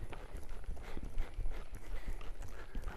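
A Gypsy Vanner horse trotting, with steady, rhythmic clip-clop hoofbeats at moderate distance forming a continuous two-beat pattern.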